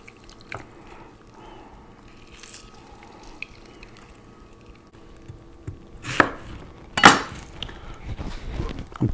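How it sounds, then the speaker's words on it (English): A knife slicing a vegetable on a cutting board for julienne strips, for fajita vegetables beside grilled pollo asada. Quiet at first, then a few sharp close cuts and board knocks near the end, with no talk. "I'm cutting the butt off of this one because I'm going to just slice it all the way through and just julienne it."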